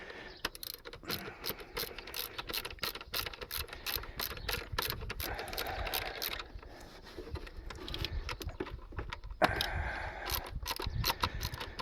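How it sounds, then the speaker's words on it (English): Rapid clicking of a ratchet wrench working valve cover bolts on a badly neglected Holden Cruze, bursts of ticking pawl clicks in steady runs with brief pauses, close and fairly loud, no talking. "Let's get the ratchet on it."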